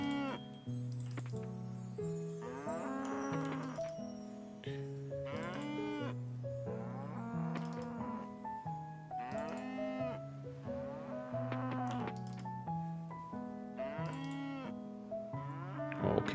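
Cows moo repeatedly in the farming video game Coral Island, layered over a soft melodic background music track, with long tonal calls at a steady, moderate level and no voices.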